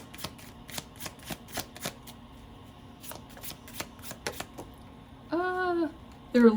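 Tarot cards are shuffled by hand in a quick series of crisp snapping riffles and taps, pausing briefly, then a voice speaks at the end.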